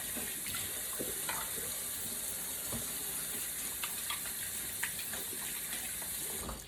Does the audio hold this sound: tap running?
yes